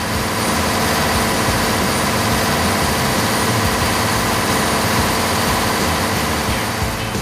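Loud, steady engine drone of a hairtail fishing boat at sea, a deep low rumble running continuously without a break, close and unvarying.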